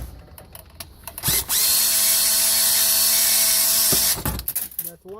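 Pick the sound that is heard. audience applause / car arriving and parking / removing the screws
removing the screws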